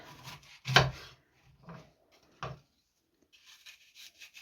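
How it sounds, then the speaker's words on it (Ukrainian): A knife cuts through apples in a few separate strokes with rubbing, rasping scrapes, close and fairly crisp, broken by short pauses. "ріжу яблучка"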